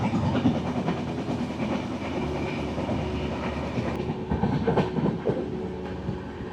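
A train rumbles steadily with a heavy, continuous drone and rhythmic clattering of wheels on rails, close and loud throughout.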